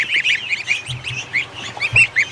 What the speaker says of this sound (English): Now they're chirping like crazy right now.